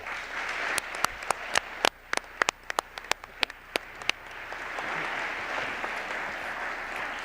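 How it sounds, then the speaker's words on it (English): Applause from the audience at a county arts and humanities awards ceremony, with sharp close claps standing out early before settling into a steady, even wash of clapping. "Please join us in giving them an enthusiastic round of applause"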